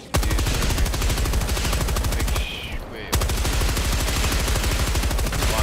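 Rapid, sustained automatic gunfire from Helldivers 2, aimed at a dropship's turbines, rattles on loud and steady with a brief gap, then resumes at full intensity.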